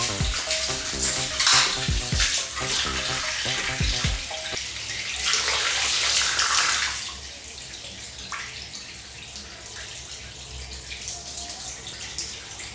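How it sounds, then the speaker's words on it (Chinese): Water gushes in a steady stream from a water-filled balloon patched with tape and pierced, following some clinks and knocks, then running on as a continuous splashing flow with no talk. "装满水的气球上粘上胶带，把它扎破，水流就像定住了一样"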